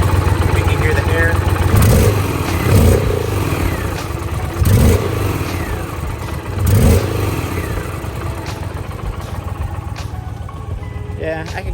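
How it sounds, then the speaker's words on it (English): Indian PowerPlus motorcycle engine idling with an aftermarket air intake and exhaust in quiet mode, a steady close low rumble with a few brief rev swells and some mechanical clatter, outdoors in the sun. "I got the bike out here in the sun running, so you can see a little bit better."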